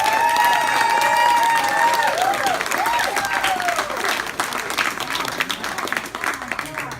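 An audience applauds parents at an artist award presentation, sustained clapping and some cheering from a crowd filling a room, steady and loud throughout.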